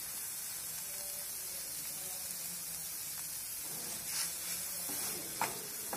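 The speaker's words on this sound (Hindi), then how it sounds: "हमें 2 मिनट तक और पकाना है, फिर हमारी अंडे की भुजिया तैयार हो जाएगी" Egg bhurji scrambles in a hot pan, giving a steady soft sizzle and hiss with occasional stirring scrapes and small spatters near the end.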